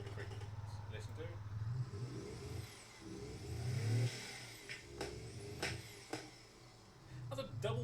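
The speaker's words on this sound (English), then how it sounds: "That's a double baffled exhaust and you're still getting" A car engine with a double-baffled exhaust revs under a low, steady drone, with a few sharp exhaust pops breaking through near the end while voices talk over it.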